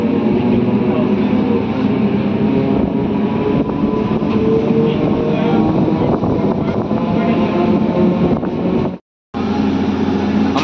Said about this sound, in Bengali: আমাদের ট্রেন এসে পৌঁছালো তার পরবর্তী স্টপেজ নবান্দা।